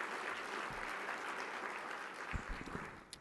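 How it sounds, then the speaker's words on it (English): An audience at a community breakfast applauds, with a dense, steady clapping filling the room throughout, moderately distant, with a few louder claps near the end. "Let's give them a resounding round of applause so they hear us out in the hallways."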